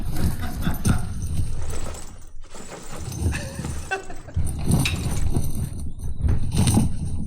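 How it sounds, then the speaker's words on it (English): A bag rummaged and shaken for armor foley, bits of leather creaking and small metal pieces clinking in irregular bursts, fairly close and busy throughout. "sounds like some bits of leather and some bits of metal"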